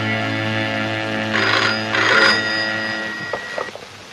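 A telephone bell rings twice in quick bursts indoors over sustained background music, then fades.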